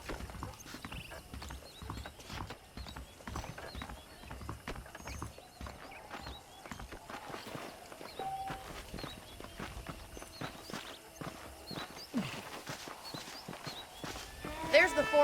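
Horse hooves clip-clopping in Red Dead Redemption, a fairly faint, steady walking rhythm with an occasional whinny, under ongoing talk.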